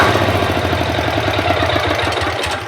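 A walk-behind tractor's small engine idles steadily with a loud, close, rhythmic low chugging and mechanical rattle, alone with no talk.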